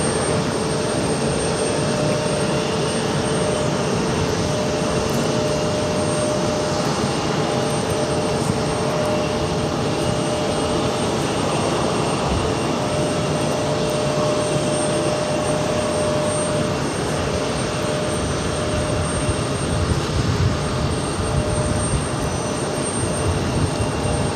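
Copa Airlines Boeing 737 MAX 8 jet airliner at JFK, a loud steady jet engine roar that holds at a constant level throughout with no speech over it.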